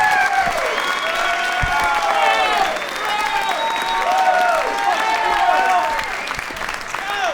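A stand-up comedy audience applauds comedian Ralph Barbosa, a loud, sustained wash of clapping mixed with whoops and cheering voices throughout.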